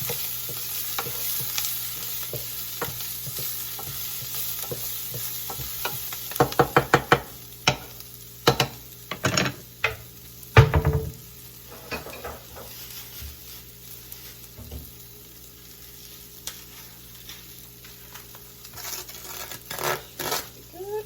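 Ground beef frying in oil in a pan for low-carb chili makes a continuous sizzle over about twenty seconds, broken by clusters of sharp spatula scrapes and knocks against the pan.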